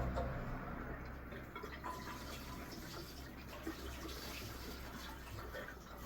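Petrol poured steadily into the fuel tank of a Honda Valkyrie motorcycle, a continuous trickling, splashing flow heard close up and alone for several seconds.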